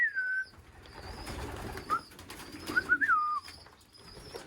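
Racing pigeons coo softly in their loft, with a few low murmuring calls over a quiet background of rustling and faint chirps.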